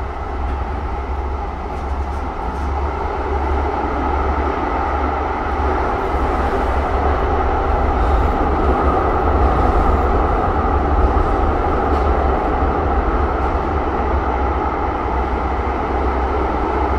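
A Chicago CTA Blue Line subway train, an old Siemens car, rumbles along steadily, with a continuous low roar and rattling of the cars, no voices heard.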